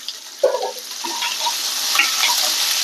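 Ivy gourd with curry leaves sizzles steadily in a hot pan, with a sharp scrape of stirring near the start and a few more scrapes later over the constant frying hiss.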